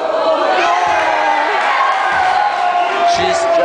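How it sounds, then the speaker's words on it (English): A crowd cheers and shouts at a basketball game in Japan, a loud continuous roar with excited yells rising over it, close by and without pause. "And Daniel's cheering for her"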